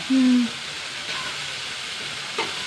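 Dried red chillies drop into hot oil with tomato in a Kerala home kitchen, giving a steady, soft sizzle after a brief tonal hum at the start, with a small clink near the end.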